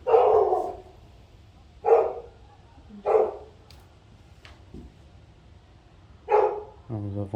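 A pet dog barks nearby inside a house, several loud separate bursts spaced a second or two apart over low background rumble, with a brief voice at the end.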